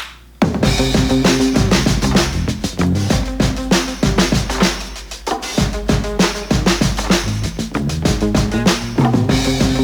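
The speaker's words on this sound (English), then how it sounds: "We also doubled it with an electric guitar that does the same lick" A short scale Squier bass line doubled by an electric guitar playing the same lick, sitting inside a loud, dense studio mix with punchy drums, the riff repeating in tight rhythmic phrases.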